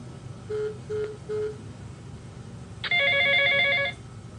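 A telephone rings with three short, evenly spaced tones followed by one longer, louder ring, clear and alone against a low background hum.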